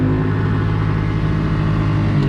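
A motorboat engine roars close and loud on a duck hunt in Southern California, a continuous steady drone with strong low harmonics as the boat runs, without talk.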